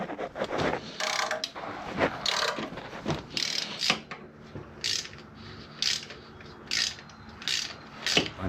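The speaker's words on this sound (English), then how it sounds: "I will start trying to break all the manifold bolts loose" A ratchet loosens engine manifold bolts with repeated close, crisp pawl clicking in short bursts, roughly one stroke per second, with no talking.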